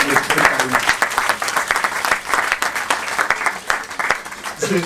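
Audience applause at a talk on school reform in Senegal, loud and fairly close, with many hands clapping in a choppy, pulsing rhythm that holds throughout, and a hint of voices near the end.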